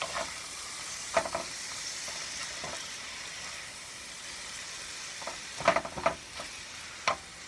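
Mushrooms fry steadily in a pan with a soft continuous sizzle, close up, while occasional sharp clinks and scrapes from stirring break through, louder toward the end; no one speaks.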